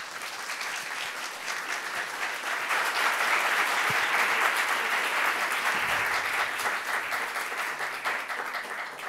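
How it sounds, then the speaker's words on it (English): Audience at a debate on AI in journalism gives the panelists a sustained round of applause, steady and dense throughout, swelling slightly in the middle and fading a little at the end. "So I'll ask you to give our panelists a big round of applause."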